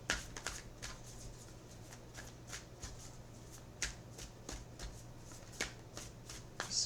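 Tarot cards being shuffled, a quick run of soft, papery riffles and flicks repeating close by over a faint steady hum, with no voices.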